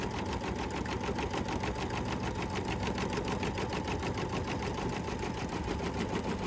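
A sewing machine double-stitching around the edge of a quilted mug rug, giving a steady, rapid mechanical whir and needle chatter that runs evenly and quietly throughout.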